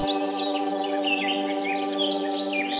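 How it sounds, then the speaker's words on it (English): Forest ambience with high, thin chirps and twittering calls of a hummingbird repeating throughout, set over a steady drone of layered background tones; moderately loud and continuous with no voices. "Hummingbird."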